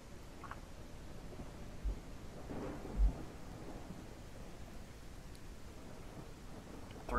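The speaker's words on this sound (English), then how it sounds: "Yeah, it's raining, Cecil." Steady rain hiss fills the scene in the survival video game Surroundead, with low thunder rumbling faintly in the distance and swelling briefly near the middle.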